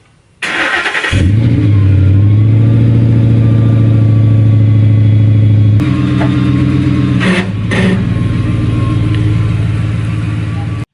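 A Ford Mustang's engine starts and idles steadily nearby, loud and continuous, with a shift in tone partway through as it is moved, and brief clanks over the running engine.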